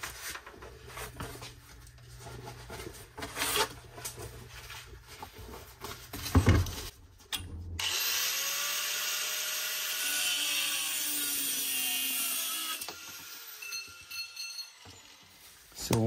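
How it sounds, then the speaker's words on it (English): An angle grinder with a thin cutoff wheel cuts through metal arch stock. A loud, steady high-pitched screech runs for several seconds and then winds down, with handling noise and talk before it. "I'm going to use my angle grinder with a cutoff wheel on it to cut this off in 18 inches"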